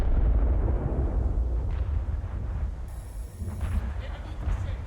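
A battleship's main guns fire a salvo in the War Thunder naval battle game, a loud, deep, booming blast at the start that rumbles and decays over several seconds, followed by faint secondary cracks and a brief high electronic tone.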